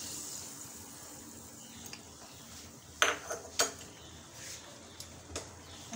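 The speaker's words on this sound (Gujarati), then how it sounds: "એની અંદર 1/2 ચમચી જેટલું લાલ મરચું એડ કરું છું અને આને હલાવી દેવાનું" A spoon stirs red chili powder into dal makhani in a metal pot, with a few sharp metallic clinks and scrapes against the pot in the second half. The sounds are faint and sparse over a quiet background.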